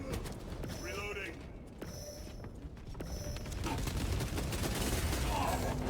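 A weapon is reloaded in a Warhammer video game: metallic clicks and creaking mechanical ratchets sound over steady battle ambience.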